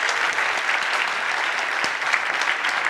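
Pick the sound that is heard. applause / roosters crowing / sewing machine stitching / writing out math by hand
applause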